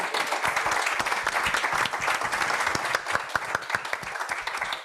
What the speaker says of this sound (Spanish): Les damos un aplauso, por favor, en agradecimiento.